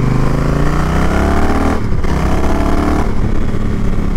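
A 2022 Honda Rebel 1100 motorcycle riding down the road, its engine loud and close with rising revs, a brief dip like a gear shift midway, then pulling again.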